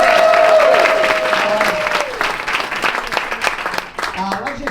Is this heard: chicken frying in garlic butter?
no